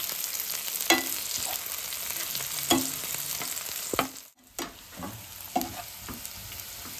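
Mushrooms fry in a pan with curry leaves and bay leaf under a soft, continuous sizzle. Scraping stirs of a spoon break in every second or two, close and fairly quiet.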